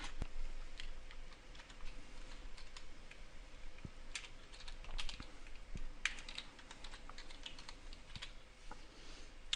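Someone types a name on a computer keyboard while installing Windows 7, producing irregular soft key clicks with occasional sharper taps and brief pauses, close and quiet over faint background hiss.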